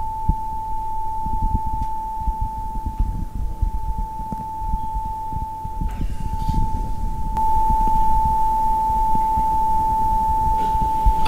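A steady 880 Hz sine tone from a tone generator rings continuously from two sources in a room, so it swells and dips with interference, over a low rumbling background with no talking.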